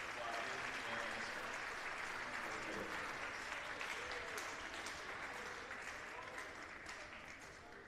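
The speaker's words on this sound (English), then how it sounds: "Fans, please join us in another round of applause to show our deepest gratitude for our veterans." Steady crowd applause in a college basketball arena honoring veterans, sustained clapping that holds throughout and eases slightly toward the end, with voices mixed in.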